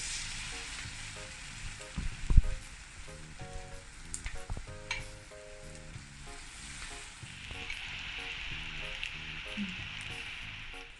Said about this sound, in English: Now fry the coated chicken sausage pieces.